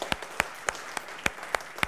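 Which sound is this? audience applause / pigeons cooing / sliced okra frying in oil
audience applause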